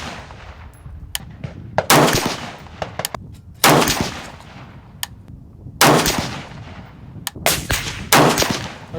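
Several sharp gunshots crack from a Daniel Defense M4A1 rifle firing Speer Gold Dot 75 grain soft point ammunition, spaced irregularly with short quiet gaps between bursts, close and loud.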